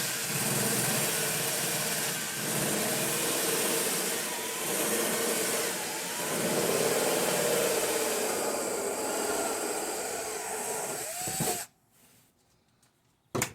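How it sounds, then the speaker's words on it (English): A power drill whirs steadily as a step drill bit bores a hole through a Ford Ranger's metal door panel, grinding continuously for about eleven seconds before stopping abruptly. "they call it a step drill"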